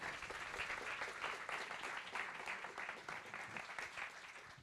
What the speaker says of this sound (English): let's give a big round of applause for Johanna Hedva